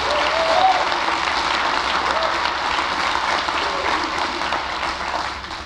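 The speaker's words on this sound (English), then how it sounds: "Let's give them a big round of applause." Steady crowd applause at the 2025 Oakland County State of the County address, a broad even wash of many hands clapping throughout with no break.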